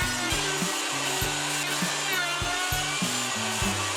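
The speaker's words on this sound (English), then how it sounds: "using my router with a roundover bit, I'll route all the edges" A router with a roundover bit running along the edges of wood boards, a continuous near whine with rhythmic lower bumps as the cut passes along the board, loud and steady.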